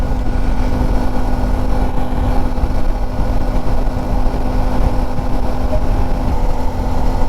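Steady, loud engine drone and wind rush from a Suzuki V Strom 250 SX motorcycle cruising at about 94-95 km/h on an open road, continuous and unbroken throughout.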